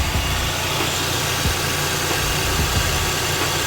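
A Mazda RX-8 R3 rotary engine idles steadily after a hot start, a close, loud, slightly uneven buzzing hum with faint periodic pulses and no speech.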